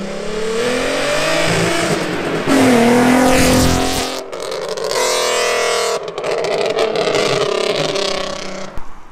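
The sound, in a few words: Nissan Skyline R32 car accelerating hard at a meet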